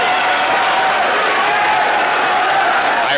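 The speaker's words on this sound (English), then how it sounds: "Fans on their feet applauding Danny with a breakaway save" Hockey fans rise to their feet applauding a breakaway save, a steady wash of clapping and crowd noise that fills the arena, loud and sustained throughout with no single voice standing out.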